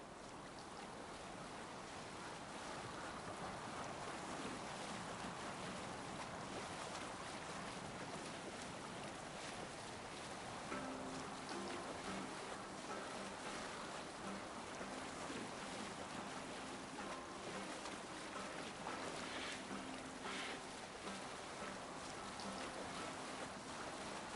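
Viking longship sailing the open sea in Assassin's Creed Valhalla, with a steady wash of waves and wind rushing across the hull throughout, and faint tonal game music rising in the background.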